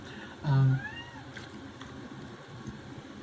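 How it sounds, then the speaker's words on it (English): A hungry cat gives one short, clear meow close by, followed by faint quieter murmurs over a low indoor background. "Now my cat's meowing like crazy."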